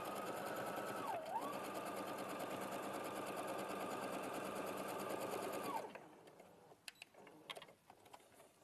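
Sewing machine running in one steady, continuous stitching burst for about six seconds, close and loud, then stopping. Afterward only faint handling clicks and small knocks remain.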